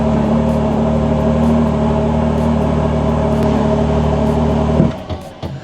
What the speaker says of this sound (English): watch what happens when I turn the car on and then I put it into race mode.